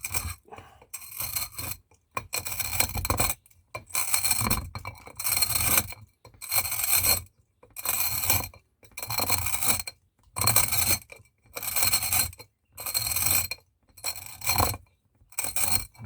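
A bottle cutter scores a glass bottle in about a dozen steady, rhythmic scraping strokes, each a gritty rasp separated by short silences, close and clear.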